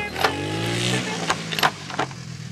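A vehicle drives across a grassy pasture, its engine humming steadily at moderate distance while intermittent bumps and rattles punctuate the ride.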